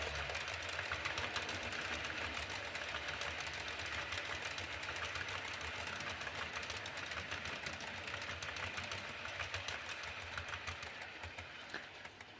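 An express hauled by the model locomotive Kestrel with a rake of Mark I coaches runs on a model railway layout, producing a steady, continuous mechanical whir and rumble that stays level throughout, moderately faint with no speech.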